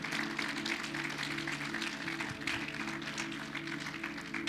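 Congregation applauding during a church service: a steady, continuous wash of many hands clapping at moderate distance, with a low sustained tone and faint voices underneath.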